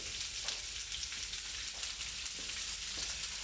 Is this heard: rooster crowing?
no